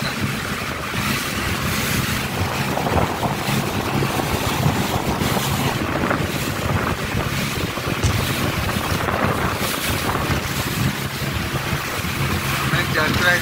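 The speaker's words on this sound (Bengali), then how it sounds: "এটা একটা ছোট বোট।" A small passenger boat runs across open sea near a Maldives resort, its engine and hull wash forming a steady loud roar mixed with wind buffeting the microphone and waves splashing throughout.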